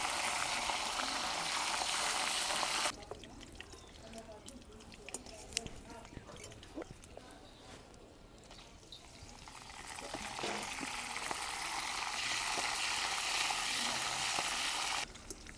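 Calotropis flowers sizzle and fry in hot ghee in a wok, a loud steady hiss that drops away for a stretch while they are stirred with scraping clatter, then swells back to a strong continuous sizzle.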